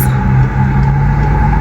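A bus on a South African roadside, its engine a loud steady hum with a droning tone, close by and continuous for under two seconds.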